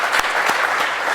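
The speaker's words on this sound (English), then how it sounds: "And I think we can just do another quick round of applause for Gavin and Andresen coming today." An audience at the MIT Bitcoin Expo 2014 breaks into a short burst of applause after a talk, steady clapping from a crowd with a few sharper individual claps standing out.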